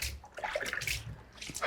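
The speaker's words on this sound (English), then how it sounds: "I'm rinsing the soap off nicely before I rinse it again the second time." Water runs and splashes over soapy washed utensils as they are rinsed at home, a brief close trickling and sloshing sound.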